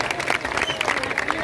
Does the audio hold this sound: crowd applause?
yes